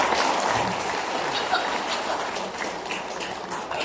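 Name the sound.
audience applause for the school principal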